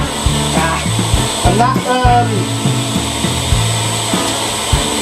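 A belt grinder grinds the bevel of a knife blade with a continuous whirring, rasping drone. The pitch shifts with each pass, and someone talks over it now and then.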